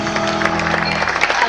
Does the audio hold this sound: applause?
yes